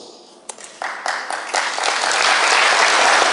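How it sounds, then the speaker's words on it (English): Audience applause at a talk starts with a few scattered claps and swells into steady, full clapping from a crowd. "You're applauding that?"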